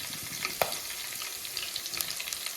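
Crushed garlic fries in oil in a pan for spicy egg pickle, a steady close sizzle with scattered crackles and a light stirring clink.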